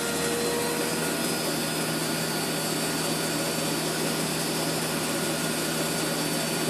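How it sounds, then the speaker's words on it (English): A Webasto HL90 diesel heater runs with a steady, loud blowing roar and faint mechanical whine, its speed creeping slowly upward, with no voices over it. "Fuel pump is increasing on speed. The heater speed will increase slowly."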